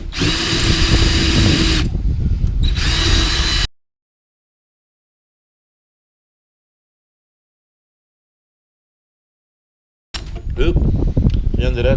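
A handheld power drill with a bit whirs loudly in close bursts, a sustained run of about two seconds, a brief gap, then another burst, followed by long silence and a final stretch of drilling.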